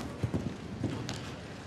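Hoofbeats of a show jumper landing and cantering in the arena at the Horse of the Year Show Grand Prix, a few clear thuds over steady crowd ambience.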